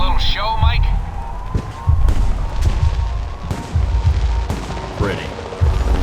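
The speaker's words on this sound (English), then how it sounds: "The noise from those fireworks should cover the sound of gunfire." Fireworks bang and crackle in the video game Alpha Protocol, several sharp bursts scattered through the scene, with a whistling rise near the start and again near the end, over a constant rumbling backdrop.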